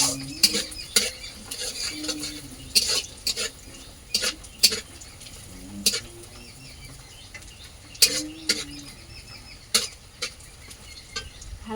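A spatula scrapes and clacks against a pan as vegetables are sautéed, irregular sharp knocks and stirring strokes close by over a quiet background, no talk.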